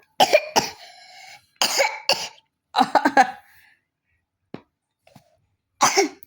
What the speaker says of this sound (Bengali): কাশি দিছ কাশি দিছ